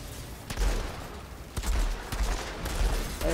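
Rapid automatic gunfire from a deployable turret in the video game Outriders, firing in loud repeated bursts with short gaps between volleys.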